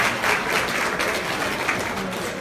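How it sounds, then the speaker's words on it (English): Steady, dense audience applause fills an inspirational luncheon hall, a close, even wash of many hands clapping throughout with no break. "Let's give Gregory another round of applause."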